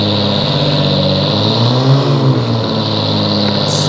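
A stock Cummins diesel truck engine roars loud and close, revving in a deep rumbling swell that climbs and eases back, continuous throughout.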